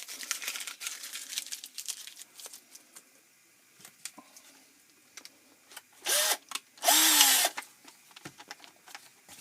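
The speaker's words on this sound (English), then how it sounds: "that's where we're going to drill that stock" Short bursts of a power drill whirring into a wooden shotgun stock, with crinkly handling noises between, then two louder sustained drilling runs near the end.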